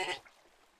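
A single short sheep bleat from the MineClone5 Minetest block game, loud at first and fading quickly into quiet.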